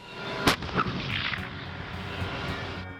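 The main cannon of a US M1 Abrams tank fires with a single sharp, heavy blast, followed by rumbling reverberation and a rolling low roar that lingers, with no talk.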